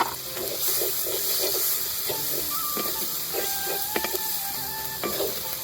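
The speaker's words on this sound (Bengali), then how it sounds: "এবার আমি টমেটো কুচিটা দিয়ে দেবো।" Chopped tomato sizzles in a pan with fried onion and ginger-garlic paste. A continuous hissing fry runs under repeated stirring scrapes and small clinks, close and fairly loud.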